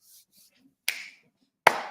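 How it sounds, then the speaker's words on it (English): Two sharp hand claps sound alone, spaced under a second apart, each a crisp broadband crack with a short tail, after a brief quiet murmur at the start. "I clap the hands. You know what that means?"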